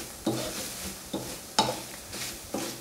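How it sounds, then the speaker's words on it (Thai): Shallots and finely chopped pork dry-frying in a pan over low heat, with a faint steady sizzle broken by four distinct scraping stirs at regular intervals. "ทีนี้ก็คั่วทุกอย่างให้หอมดีเลยค่ะ"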